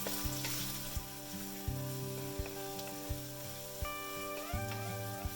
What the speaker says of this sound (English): Add onion slices and stir fry for 2 minutes.